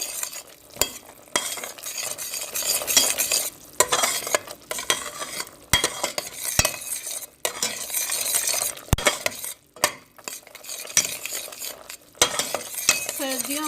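A peanut chikki mixture with melted butter is stirred and cooked in a pan: repeated scraping and clacking of a utensil against metal over a light sizzle, uneven in rhythm, with no speech.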